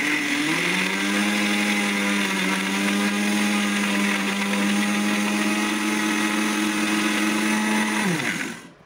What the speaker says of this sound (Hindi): अब इसको दोबारा से हम लोग बंद करके दोबारा ग्राइंड करेंगे।